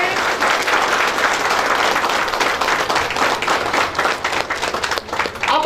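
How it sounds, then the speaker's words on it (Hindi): An audience at a Safe Shop event in Kusmi applauds loudly in a dense, continuous burst of clapping that is close and sustained, with crowd noise mixed in and no clear talk. "एक बार अपने लिए जोरदार तालियों से हम लोग का विंटर को स्वागत करेंगे।"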